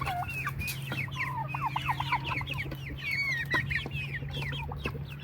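Many chickens cluck and chatter together nearby, a busy overlapping flock with a low steady hum underneath.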